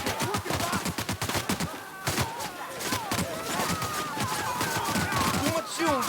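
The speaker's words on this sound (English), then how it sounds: "Too much shooting going on." Dense gunfire from a shootout in the video game The Outer Worlds, with rapid overlapping shots and thuds sustained loud throughout, mixed with shouted voices.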